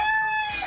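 A chicken or rooster crows briefly, loud and close, with a short cluck at the end and no talking over it.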